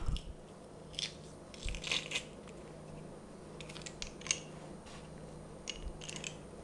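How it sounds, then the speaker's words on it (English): Two large garlic cloves are squeezed in a hand garlic press in a home kitchen, giving faint crunching and squishing with a few scattered clicks and crackles from the press, fairly close and with no talking. "Put them in the garlic press."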